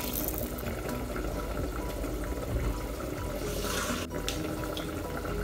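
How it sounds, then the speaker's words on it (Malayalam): Water is poured into a pan for Malabar ghee rice, a steady close rushing splash running throughout with a brief dip near the end, no talking. "ഇനി നമുക്കിതിലേക്ക് എടുത്തു വെച്ചിട്ടുള്ള വെള്ളം ചേർക്കാം."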